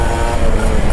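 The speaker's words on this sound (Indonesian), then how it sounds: "Jadi beda ketika di RPM bawah itu suara knalpot itu memang agak kecil," A Kawasaki Ninja RR 150 two-stroke motorcycle on a night ride, its exhaust a loud, dense, steady drone at low revs with no clear pulses.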